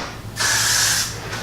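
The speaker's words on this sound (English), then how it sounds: "I'm going to take my got-to-be glued hairspray again and give it a spray on both sides" A single steady hiss of a hairspray aerosol lasting about half a second, close and loud, followed by a brief second puff, sprayed onto a mohawk hairstyle.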